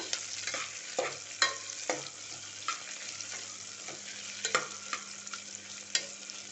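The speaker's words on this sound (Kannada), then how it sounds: "ಈರುಳ್ಳಿ ಚೆನ್ನಾಗಿ ಫ್ರೈ ಆಗಬೇಕು, ಗೋಲ್ಡನ್ ಬ್ರೌನ್ ಬರಬೇಕು ಫ್ರೆಂಡ್ಸ್, ಅಷ್ಟು ಫ್ರೈ ಆಗಬೇಕು." Onions frying in hot oil toward golden brown for chicken donne biryani, a soft continuous sizzle broken by repeated sharp scraping strokes of a spatula against the pan at an irregular pace, close and fairly quiet.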